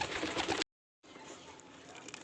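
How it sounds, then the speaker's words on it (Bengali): A young racing pigeon chick, fed by a large male, gives soft cooing calls close by amid rustling noise, broken by a brief silence before continuing. "এই যে এটা হচ্ছে সেই বাচ্চা কবুতরটা"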